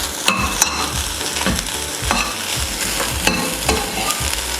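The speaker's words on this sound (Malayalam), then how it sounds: "ഇതെല്ലാം കൂടെ നല്ല ബ്രൗൺ കളറായിട്ട് വറുത്തെടുക്കണം." Kashmiri chillies, coriander seeds and curry leaves dry-roast in a pan for a Kerala prawn theeyal, giving a close, steady scrape of stirring with repeated sharp spoon-on-pan knocks and a light crackle underneath.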